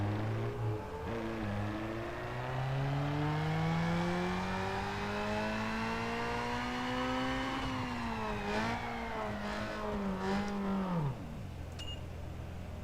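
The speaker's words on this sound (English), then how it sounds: "Do a dyno run to double check everything." A tuned car engine from Need for Speed Underground 2 on a dyno run, revving steadily upward through the gears in a long rising whine with brief shift dips, then cutting off sharply to idle; no talk.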